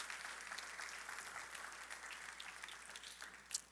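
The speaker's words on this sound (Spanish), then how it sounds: "Denle ese fuerte aplauso al Señor" Church congregation applauding during a Sunday service, a steady broad wash of many hands clapping at a distance, faint and continuous throughout.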